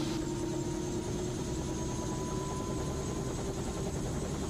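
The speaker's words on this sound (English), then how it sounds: "Now we get that turbine engine in the back." Single-turbine helicopter engine winding up as the rotor speed builds, a steady loud whine with a rising tone over a dense low rumble, continuous and close.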